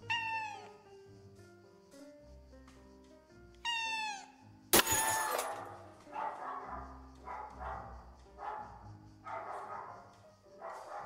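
A cat character in a video game meows repeatedly to break a flickering light, several clear meows spaced apart, with a sudden bright crash midway and a low ambient score underneath.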